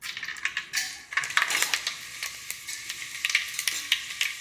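Mustard seeds hit hot sesame oil in a pan, giving a close, steady crackle and spatter with sharp popping bursts throughout and no voices.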